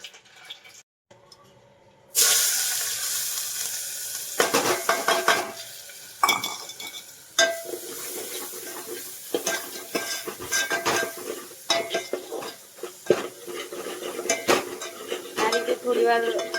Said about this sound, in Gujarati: આ રીતે થોડી વાર આ રીતે આમ ચમચીથી હલાવવાનું